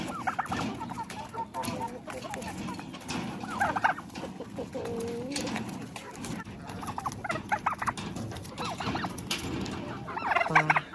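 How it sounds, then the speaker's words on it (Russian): Several turkeys gobble and cluck together close by while eating apples, a busy chorus of repeated gobbles with bird chatter continuing throughout. "Так любят яблоко индюки"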